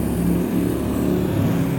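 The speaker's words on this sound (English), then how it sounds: "We out here by a busy highway, so I apologize about the road traffic noise." Steady, loud road noise from a busy highway in cold, wet weather, a continuous low rumble of passing cars and trucks with no talking.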